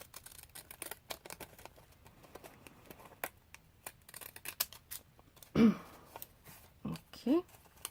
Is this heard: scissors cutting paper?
yes